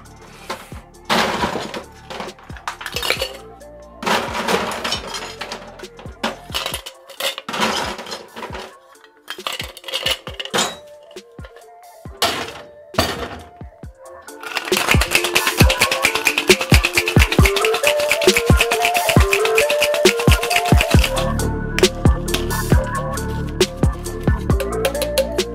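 A cocktail with ice in a shaker: scattered clinks and rattles at first, then about eight seconds of loud, steady rhythmic shaking of ice against metal, ending in a few final knocks.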